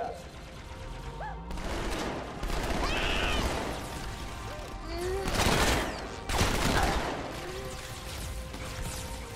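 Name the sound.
gunfire in video game Halo 2: Anniversary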